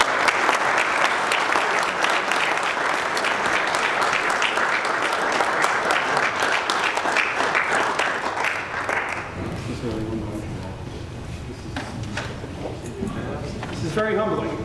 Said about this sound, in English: give Tony one more round of applause